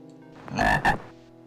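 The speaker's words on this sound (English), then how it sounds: "It sounded like croaking." Frog croaking in the dungeon of the video game Ravenloft: The Stone Prophet, a short, loud, raspy double croak standing alone over a quiet low ambient hum.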